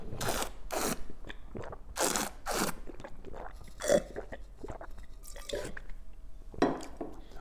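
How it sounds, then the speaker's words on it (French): Red Château Bonnet Saint Amour Côte de Besset 2020 is slurped and chewed during tasting. Several close, airy gurgling bursts come in uneven clusters, with softer wet mouth sounds between them. "grumer le vin, le mâcher comme si on mâchait un aliment"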